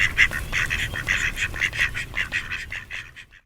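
A cluster of ducks quacks steadily and repeatedly at close range, their calls overlapping in a busy rhythm before stopping abruptly.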